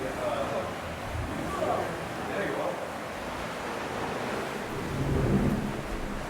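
Ocean waves roll outside a sea cave on the Nova Scotia coast, making a steady, broad roar with wind rushing against the microphone and swelling toward the end.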